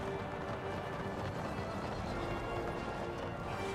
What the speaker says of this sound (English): Super cavalry charge